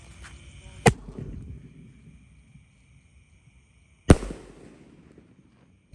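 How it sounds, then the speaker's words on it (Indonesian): A Bima Sakti size 4 firecracker set off on a Ramadan night gives two sharp, loud bangs about three seconds apart, each followed by a short crackling tail, with quiet background in between. "Selanjutnya kita nyalakan mercon Bima Sakti ukuran 4 guys."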